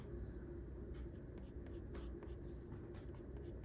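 Colour pencil shading on scrap paper, soft scratchy strokes repeating in a quick irregular rhythm, close but quiet, with no talking.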